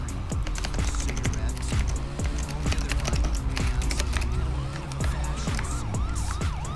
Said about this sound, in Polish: Gonią mnie syreny.